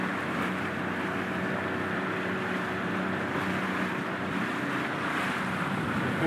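A boat motor idles on open water among rock formations, a steady broadband rumble mixed with wind and water wash that runs constant at a moderate level with no speech.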